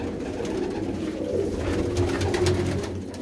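Pet female pigeons of Ustad Binder Kingre Wale in a loft coo steadily in low, rolling, overlapping calls, close by and continuous, with no one speaking.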